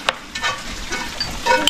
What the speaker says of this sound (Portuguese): Só esse alho fritar, a gente já vai trocar de panela.